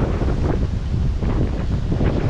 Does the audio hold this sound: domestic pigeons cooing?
no